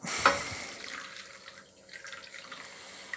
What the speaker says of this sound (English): Let's just transfer the water over.